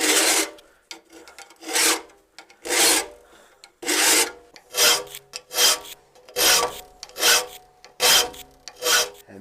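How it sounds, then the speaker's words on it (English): A handsaw is sharpened with a file in a series of rhythmic rasping strokes, about a dozen close, loud scrapes with short pauses between, and no talk. "Now, for real, I'm really going to shut up and just sharpen my saw here."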